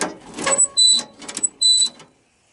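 Dry, unlubricated mechanism on an EZGO electric golf cart being rebuilt with a TRX200SX engine, creaking and squealing in three loud, close strokes with sharp high-pitched squeaks and grinding in between, then falling silent.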